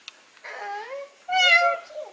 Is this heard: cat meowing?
yes